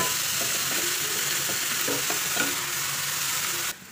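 Chopped bottle gourd sizzles in a pan as it is stirred, a continuous close frying hiss with soft scraping and stirring knocks, ending in a brief clatter.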